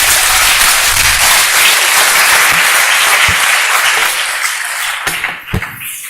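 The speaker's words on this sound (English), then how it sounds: "Big round of applause for Anshul Khadwalia." A TEDx audience applauds a speaker as he takes the stage, steady dense clapping filling the room before thinning out toward the end, with a few louder individual claps near the close.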